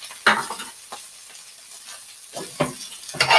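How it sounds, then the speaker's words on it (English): Potatoes and onions fry on a stovetop, a steady low sizzle broken by a few sharp stirring scrapes and clatters near the start and end, close and fairly quiet, with no talking. "I got the potatoes on here now with the onions. And this is going to be for fried potatoes."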